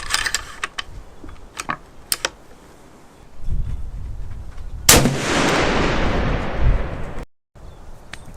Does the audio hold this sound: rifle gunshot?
yes